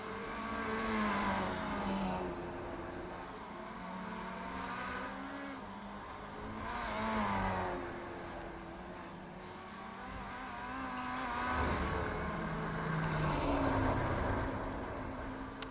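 Kia Optima race cars lapping Summit Point Raceway in the iRacing simulator, engines droning and swelling in pitch as several cars pass in waves, steady and fairly loud with no talk.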